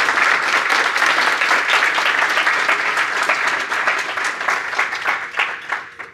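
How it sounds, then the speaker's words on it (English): An audience applauds steadily for several seconds, a dense wash of clapping that holds strong and then slowly thins toward the end. "But if you can give Dario another round of applause."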